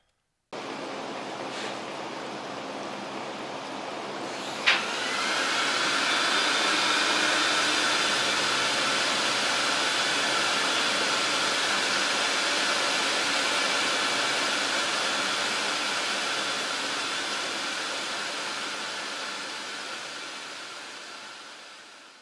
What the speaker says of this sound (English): After the cleaner going through the foundation of the rug and pull and wash out all the urine crystal